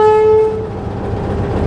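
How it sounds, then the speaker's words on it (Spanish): Locomotive horn on the Arica–La Paz railway sounds one loud, close blast of about half a second, then cuts off, leaving a reverberant rumble behind. "Aquí tenemos la bocina."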